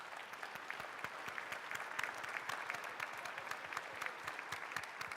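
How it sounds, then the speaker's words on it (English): Steady, dense audience applause at a master clinician presentation, many hands clapping together at an even level for about five seconds with no talk. "give my patient a round of applause"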